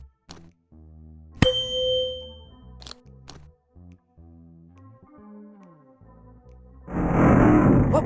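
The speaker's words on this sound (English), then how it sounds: "A musical triangle." In the point-and-click game Willy Morgan and the Curse of Bone Town, a musical triangle rings out in a single bright, sustained metallic ding that decays slowly, followed by game sound effects and a burst of noise.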